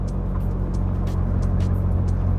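A big-turbo Mazda MX-5 Miata, newly fitted with a working alternator and running about 0.4 bar of boost, drives along with a steady, loud low engine drone and road rumble heard from inside the car.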